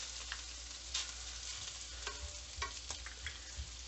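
Beef browning in a frying pan with a spoonful of butter added, a steady close sizzle broken by a few soft stirring scrapes, with no talk.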